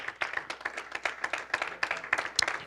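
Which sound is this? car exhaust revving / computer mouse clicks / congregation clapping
congregation clapping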